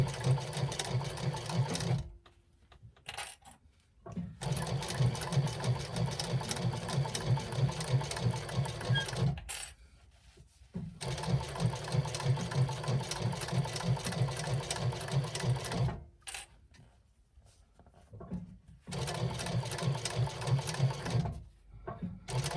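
A sewing machine stitches fabric darts in bursts of steady whirring, stopping and restarting several times with brief quiet pauses between runs; no talking.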